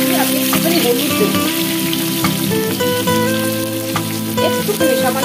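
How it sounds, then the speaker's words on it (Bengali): Potatoes sizzle and crackle steadily as they fry in a pan for a khichuri and aloo dum meal, a close, dense spatter with a few sharper pops throughout. "আলুগুলো তো আমি ভেজে নিচ্ছি"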